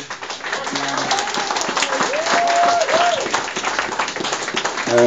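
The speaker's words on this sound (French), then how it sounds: "une bonne main d'applaudissements pour" Applause from an audience for the artists behind an artwork that is three-quarters white. Steady clapping runs throughout, with a voice speaking briefly over it in the middle.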